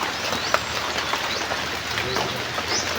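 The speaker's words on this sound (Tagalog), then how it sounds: "dahil po sa lakas ng ulan" Heavy rain falling in the mountains, a steady broadband hiss close by, with a few faint bird calls and small drips rising above it.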